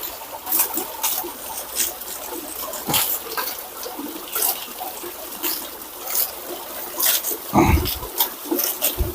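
Muddy water drains out of the outlet pipe of a biofloc fish-farming tank, trickling and splashing nearby in uneven spurts with a heavier gush near the end.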